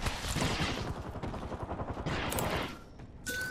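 Rapid automatic gunfire in the Apex Legends battle royale game, dense bursts of close shots running almost continuously, with a short pause before a final burst.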